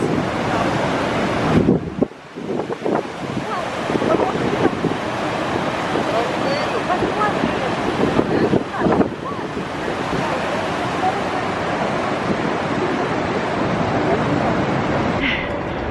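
Niagara Falls in winter, with broken pieces of ice going down the falls, makes a loud, continuous roar of rushing water mixed with gusting wind buffeting the microphone, steady throughout with brief dips.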